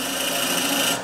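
A box scraper hogs out madrone wood on a spinning lathe, producing a steady, loud, close rasping scrape that runs evenly throughout before cutting off abruptly at the end.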